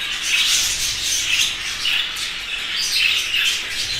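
A flock of home-bred budgerigars kept for sale chirps and squawks busily, dense overlapping high chatter in bursts, loud and close, with no talking.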